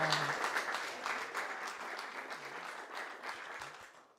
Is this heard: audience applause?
yes